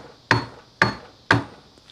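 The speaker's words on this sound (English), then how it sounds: "we're going to use the back end of the hammer just to pound this down onto the splines" Three sharp metallic blows from the back end of a hammer pounding a part onto splines land at an even pace, each striking hard and ringing briefly, close and loud.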